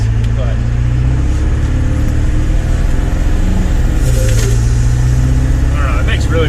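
A 7.3 Powerstroke diesel truck engine with a no-boost problem runs and revs, a heavy low rumble with shifting pitch as it accelerates, while a person talks over it.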